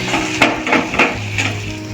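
Spices sizzle in a hot pan with a steady crackling hiss, punctuated by a few sharp scraping stirs.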